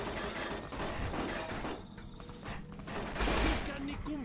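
Bursts of rapid gunfire crackle in Fallout: New Vegas, dense overlapping shots mixed with clattering mechanical noise at a fairly low level, with a brief heavier blast near the end.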